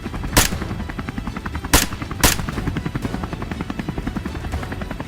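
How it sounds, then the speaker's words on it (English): Rapid rhythmic thudding of helicopter rotor blades fills the scene during a wild boar hunt, with a few sharp loud cracks like gunshots breaking through. "The helicopter kept circling"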